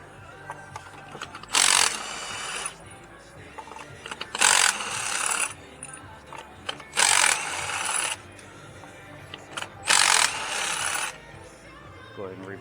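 Ratchet with a 5/8 spark plug socket loosening the spark plugs on a Hyundai Elantra, four separate bursts of rapid clicking ratchet strokes each lasting about a second, close up against a faint background.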